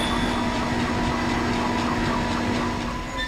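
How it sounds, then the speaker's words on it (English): A tram car arriving in the Dead Space video game, heard as a loud, continuous mechanical rumble and rail-like roar with a steady drone throughout. "Replacing damaged tram car. Please stand by."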